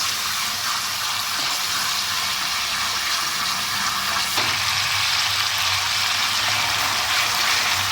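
Tomatoes frying in a pan with a little water for daal maash, stirred with a spoon: a steady, loud, close sizzle that runs without a break throughout.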